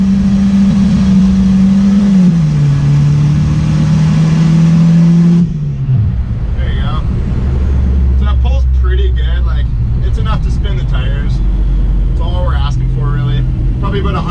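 Volvo 940 automatic accelerating hard through first gear in the rain, a loud, close engine drone climbing steadily with a brief shift dip, then cutting off abruptly before people talk over lower idling engine noise.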